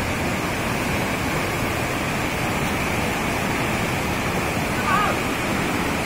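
A waterfall and streams in eastern Nepal give a steady, dense broadband rush that stays even and loud throughout, with no clear talk over it.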